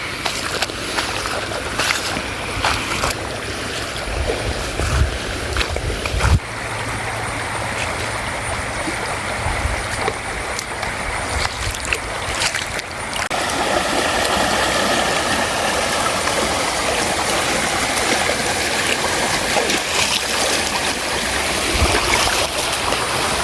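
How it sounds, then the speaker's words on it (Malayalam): Stream water flowing through a natural outdoor spot gives a continuous rushing wash that grows louder and denser partway through, with a few brief knocks and handling noises early on. "ഇതിലേക്കൂടിയും അതിലേക്കൂടി എല്ലാം വെള്ളം വരുന്നുണ്ട്"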